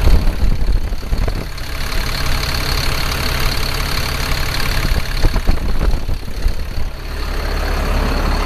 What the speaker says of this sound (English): I'm going to let you listen to the engine run here.